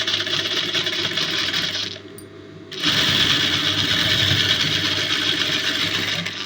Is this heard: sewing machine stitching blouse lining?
yes